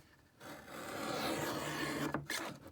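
A blade trimming the edge off a sheet of masterboard paper makes a steady, close dry rasp for a couple of seconds, then a few brief, softer scraping strokes before it stops.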